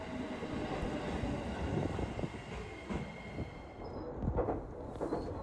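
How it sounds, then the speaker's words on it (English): Inside a single-carriage train on the Kakogawa line, a steady rumble of running gear and wheel noise continues throughout with faint rattles and clicks, no talking. "And here is the Kakogawa line train. It's only a single carriage train"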